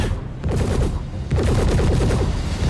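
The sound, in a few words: gunfire in video game Star Citizen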